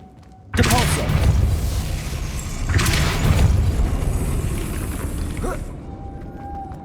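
A Depulso spell cast in the Hogwarts Legacy video game: a sudden loud whooshing blast with crashing, shattering debris, a second surge a couple of seconds later, then a ringing tail that fades out.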